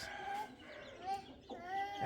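Chickens and a rooster cluck nearby in a series of short, nasal calls spread across the moment, fairly close and moderately loud over a quiet background.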